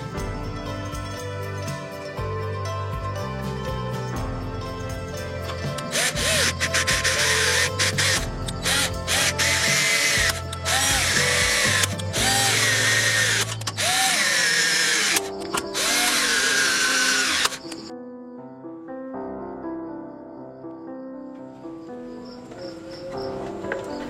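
A power drill drives M4 bolts into the top cover of a vintage Sherwood AD-21 integrated amplifier, with loud close whirring runs that rise and fall in pitch and stop between bolts, over a soft background of music.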